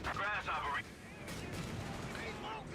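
An artillery barrage in a strategy video game, heard as a dense, sustained rumble of distant booms and blasts under tonal game sounds, with a sharper burst midway.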